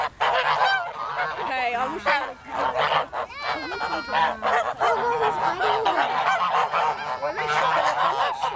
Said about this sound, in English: Those are the biggest and the fattest geese I've ever seen. And they're so loud.